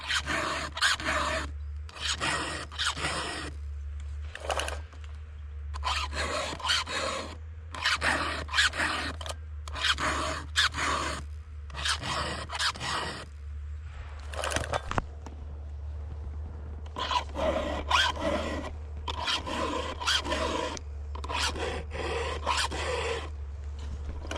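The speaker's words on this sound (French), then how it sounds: "Les 2 petits coups pour rafraîchir un peu la chaîne." A hand file sharpens a chainsaw chain with crisp, rhythmic rasping strokes delivered in quick clusters, with short pauses between the sets, close up.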